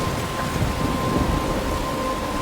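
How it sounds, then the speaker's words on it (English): Thunderstorm with rain from Life Is Strange: dense, steady hiss of falling rain with low rumbling beneath, continuous and close, with no voices. "I'm trapped in a storm"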